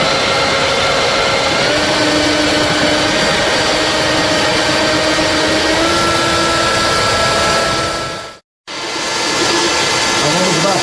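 An electric mixer beats mocotó jelly after being turned up to a higher speed, giving a loud, steady motor whine and churning drone that runs almost without a break, with a brief cutout near the end.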